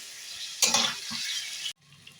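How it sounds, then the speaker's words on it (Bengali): Fried potatoes sautéed with spices in a pan for Kashmiri aloo dum, a steady loud sizzle with a burst of stirring scrapes partway through, then cutting off abruptly to a quieter hiss. "আলুটা দিয়ে আবার মিনিট 2-এর মতো মশলার সাথে একটু কষিয়ে দিচ্ছি"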